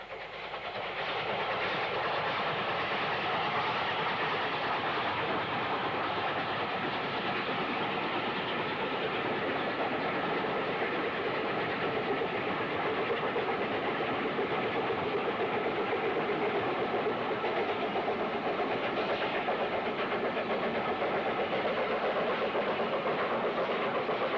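A steam train on 1964 vintage footage passes with a 9F banker locomotive, giving a steady, loud, continuous roar and rumble of engine and wheels throughout, with no voices.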